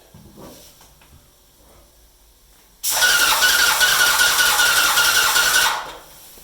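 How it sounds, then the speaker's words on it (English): A Graco Jet Roller paint machine starts up abruptly partway through, running as a loud, steady mechanical whine and hiss for about three seconds before it cuts off, after a quiet stretch with no talking. "You can hear the machine's not working hard at all."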